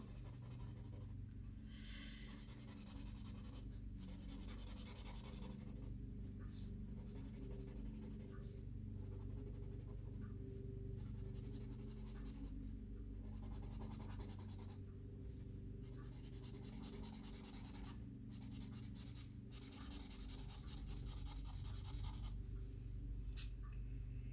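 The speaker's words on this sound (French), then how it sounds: "J'essaye de colorier dans le même sens. C'est plus joli, hein, essayer de colorier tout dans le même sens. Moi, je fais de haut en bas." Colouring strokes rub on a page of a mystery colouring book, worked top to bottom in one direction: a quiet, close, steady scratching with short breaks between passes.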